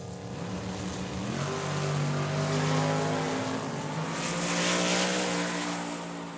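Drag racing Camaro and Mustang, the Mustang boosted, roaring down the strip at Tucson Dragway; a loud sustained engine wail rising in pitch through the gears, continuous and near, with crowd ambience beneath.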